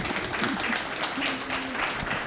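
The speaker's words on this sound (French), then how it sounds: "On applaudit, s'il vous plaît." Audience applause at a professional-training presentation event, a steady patter of clapping hands filling the room, fairly close, with faint voices mixed underneath.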